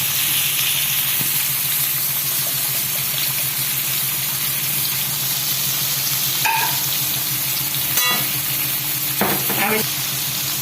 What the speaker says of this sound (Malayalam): ആ എണ്ണയിലോട്ട് അടുത്ത് കട്ട് ചെയ്ത് വെച്ചിരിക്കുന്ന സവാള ഇട്ട് കൊടുക്കാം